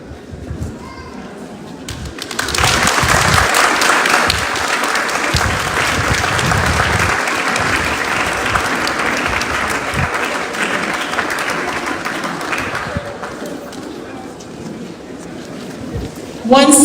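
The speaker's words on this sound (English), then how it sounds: "give your parents a round of applause" Graduates applauding their parents at a secondary school graduation ceremony, with a quieter stretch of background noise before a loud, sustained round of clapping from a large crowd that tapers slightly and ends with a thump.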